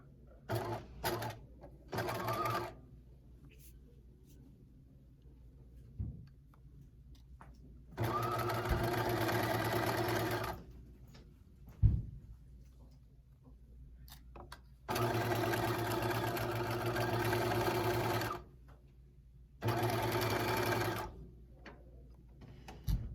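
A sewing machine stitches a 3/8-inch seam in fleece for a pullover, running in several sustained whirring bursts separated by quiet pauses and a few clicks, up close with no talking.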